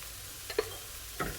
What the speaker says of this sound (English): going in with the onion. And I'm just going to continue sauteing.